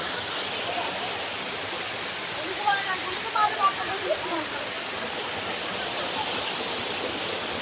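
Talakona waterfall in Andhra Pradesh roars in a steady, even rush of water stepping down over rocks, with faint voices briefly in the middle.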